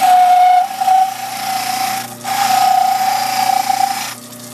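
Dental model trimmer grinding along the edge of a bleach tray, a loud steady whining rasp with a strong tone, briefly dipping twice as the tray is repositioned, with no talking.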